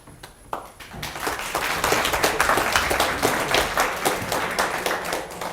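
A crowd breaks into applause, the clapping swelling quickly to a steady, dense roar and holding before starting to fade.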